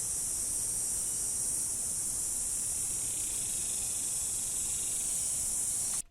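Outdoor ambience in a green belt near a house, carried by a continuous, even high cicada drone that holds steady throughout before cutting off abruptly at the end; birds are not clearly distinct.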